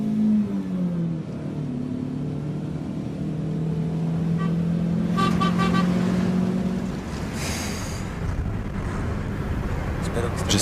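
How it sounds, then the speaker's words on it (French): A taxi car speeds through the Mexico City area, its engine note sliding in pitch over a steady rushing roar, with brief horn-like tones and busy traffic noise around it. "La voiture du beau-frère n'aura sûrement jamais roulé aussi vite."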